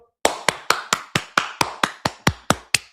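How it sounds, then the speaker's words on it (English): One person clapping hands close by, about eleven sharp, crisp claps in a steady, evenly spaced rhythm with brief silence between each, and nothing else in the background. "I'm clapping"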